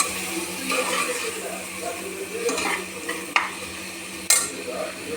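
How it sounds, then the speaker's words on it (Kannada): Green chillies, coriander powder and salt frying in a pan, a continuous low sizzle under repeated stirring scrapes and a couple of sharp metal clinks against the pan, close and without talk. "ಹಸಿಮೆಣಸಿನ್ಕಾಯಿ, ಧನಿಯಾ ಪೌಡರ್ ಮತ್ತು ಉಪ್ಪು ಇಷ್ಟನ್ನು ಹಾಕಿ ಫ್ರೈ ಮಾಡಿದ್ದೀನಿ"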